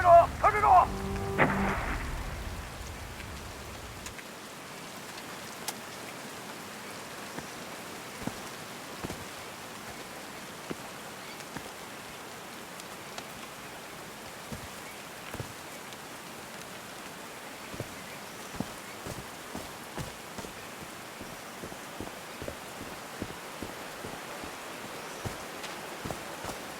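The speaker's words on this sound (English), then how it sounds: "These drops of rain are so refreshing." Steady rain falls in the video game Call of the Sea, a soft continuous hiss dotted with sharp drop ticks and a heavier burst at the start, with no talk over it.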